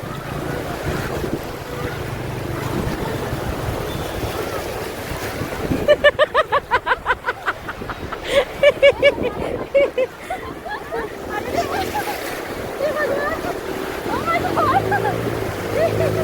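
Wind buffets a microphone on an open boat at sea as waves slosh and splash against the hull, with a rhythmic pulsing burst midway and voices murmuring.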